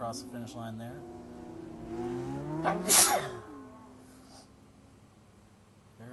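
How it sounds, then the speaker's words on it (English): A single sharp sneeze bursts out near the middle, over a race commentator talking and a drift car's engine droning in CarX Drift Racing. "Bless you. Sneeze."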